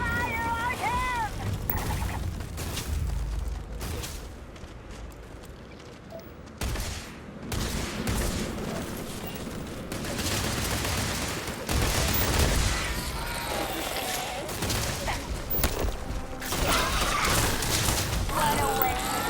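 Gunfire in the video game Starfield: scattered volleys of shots and bursts of combat noise, with dialogue spoken over the fight.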